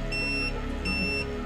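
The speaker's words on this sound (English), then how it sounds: "complemented by an audible alarm" Portable µRAIDplus IMS chemical detector sounding its audible alarm: two steady high electronic tones, one long and one shorter after a brief gap, over a constant low hum.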